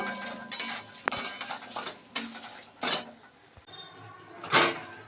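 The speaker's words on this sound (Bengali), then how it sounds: "মাসকলাইয়ের ডালটা যেহেতু ভাজা আছে, সেই জন্য বেশি ভাজবো না, 1-2টো নাড়া দেব" Black gram dal already fried, stirred a few times in a pan, giving intermittent scraping and knocking strokes of the utensil over a soft background sizzle, close and moderately quiet.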